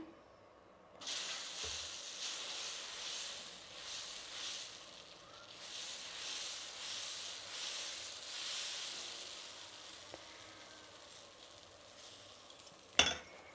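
Pesarattu batter made from green gram and rice sizzles on a hot pan as a steady, faint, even hiss. The hiss begins abruptly and ends with a brief sharp clack.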